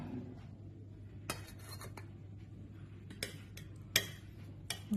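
A spoon scrapes and clinks against a pan while scooping cooked paneer, a few sharp metallic taps spread over a quiet background hum.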